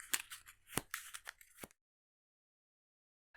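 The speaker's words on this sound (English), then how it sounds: "Shuffles her deck." Arkham Horror card game deck being shuffled at a table. A quick run of close, crisp card riffles and snaps lasts about a second and a half, then stops and leaves silence.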